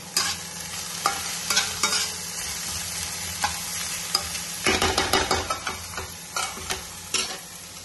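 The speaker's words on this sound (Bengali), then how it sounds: "সবজিগুলো একটু ভেজে নেব" Onion, capsicum, carrot, curry leaves and green chilli fry in a pan with a steady close sizzle. Scraping stirs and clinks break through now and then, and the frying grows busier toward the end.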